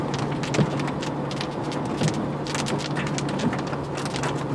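Rain pattering steadily on a parked Range Rover, heard from inside the car as a dense, even patter with a low hum beneath and occasional soft thumps.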